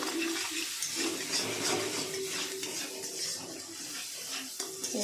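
Masala being stirred and sautéed in a pan for an egg curry with potatoes, a steady close sizzle with light scraping and clinking of the spoon against the pan, continuous and fairly quiet.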